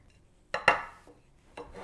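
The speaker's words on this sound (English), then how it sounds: "I'm just going to use a little whisk here and whisk it all together to combine." A small whisk clinks and scrapes against a bowl while mixing coconut gujiya filling, with a few sharp metallic taps separated by quiet gaps, close and fairly crisp.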